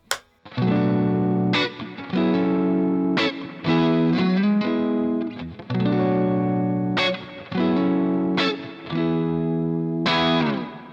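An electric guitar played through an Axe-Fx on a clean patch with a slight crunch, strummed chords and picked notes ringing out in phrases with short gaps between them, loud and close, no talking.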